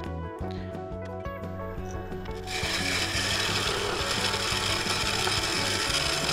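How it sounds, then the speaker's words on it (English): Woodturning tool held as a scraper against a spinning Mudgee River sheoak bowl on a lathe, a steady loud rasping scrape over the lathe's constant hum, growing rougher and denser partway through. "Here's a good example of when I'm using it as a scraper. You see those nice long shavings coming off."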